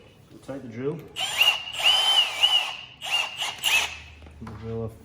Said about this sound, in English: We'll drill a 4mm hole to start with.